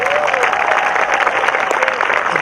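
Dense applause from a graduation-ceremony audience at a high school commencement, a steady wash of many hands clapping at close range with faint cheering mixed in.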